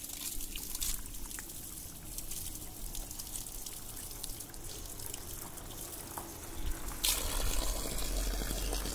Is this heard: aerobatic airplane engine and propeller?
no